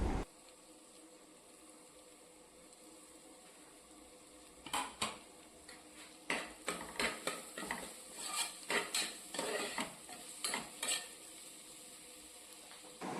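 Chopped tomatoes and coriander leaves sautéed in a cooking pot for chana biriyani: a quiet sizzle at first, then a run of close, irregular scraping and clattering strokes from a spoon against metal.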